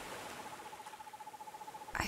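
A faint, steady hooting tone from an owl in the video game Perception pulses rapidly for about two seconds, soft and distant, ending with a short louder burst of noise.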